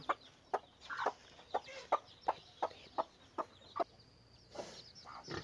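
A Thai breeding mother hen, separated from her chicks, clucks in a steady series of about a dozen sharp, evenly spaced calls, close and clear, ending in a few softer, drawn-out notes.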